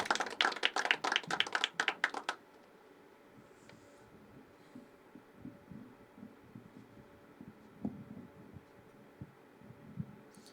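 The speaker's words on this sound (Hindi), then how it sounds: "एक बार जोरदार तालियां।" Open mic poetry audience at The Habitat giving applause, a brief burst of several clear, sharp claps for about two seconds, then a quiet room with scattered faint taps and murmurs.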